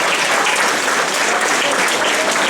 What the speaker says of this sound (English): Kindly give Mr. Marlon Castro a nice round of applause,